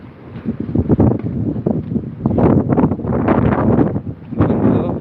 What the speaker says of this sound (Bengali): আর বাতাস তো আছেই